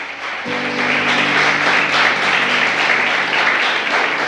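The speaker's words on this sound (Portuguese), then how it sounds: "Aplauda o Senhor, aleluia." A church congregation applauds the Lord during a sermon, dense sustained clapping filling the room over a held low musical tone, with no talking.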